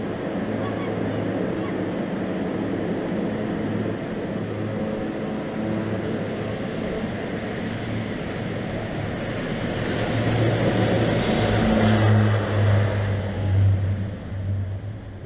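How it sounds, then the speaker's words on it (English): A propeller airplane at Lukla, Nepal drones steadily nearby, its engine rising into a louder, rougher roar toward the end as it takes off, with wind noise throughout. "There goes the airplane."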